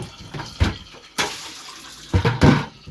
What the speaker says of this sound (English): I normally just fill it with cold water to rinse